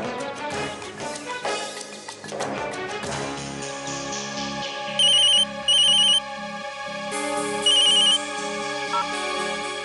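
A phone ringtone chimes in repeated electronic bursts at a home in a Hindi TV drama, rising out of a swelling background score.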